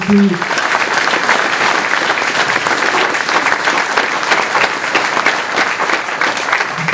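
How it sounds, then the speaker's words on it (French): Sustained, dense clapping from a large audience at a mayor's New Year wishes ceremony in Campénéac, France, steady and loud throughout with no pauses. "on peut les applaudir"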